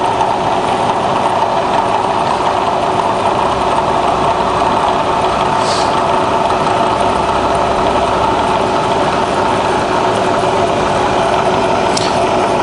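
A Bridgeport milling machine runs with the quill power feed engaged, giving a loud, continuous mechanical drone and whine with no breaks, close by.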